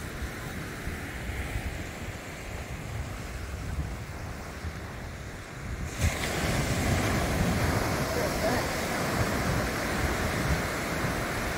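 Ocean surf rolls onto an Outer Banks beach with a steady broadband wash of waves and wind buffeting the microphone, growing louder midway as the shoreline is approached.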